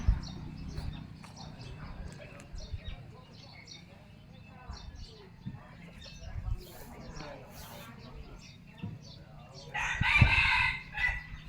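A rooster gives one clear, fairly close crow near the end, over faint rural background noise and scattered chirps, with someone talking quietly at times.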